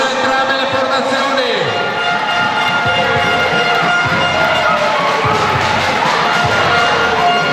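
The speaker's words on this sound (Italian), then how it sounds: "Un applauso a entrambe le formazioni" Crowd applauding and cheering for both teams after an under-16 women's regional basketball final, loud continuous clapping with shouts throughout, close and dense, with a voice over it.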